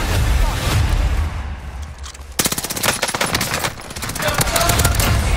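Rapid video game gunfire rattles in quick automatic bursts after a brief lull, loud and close, with a player talking over the shots.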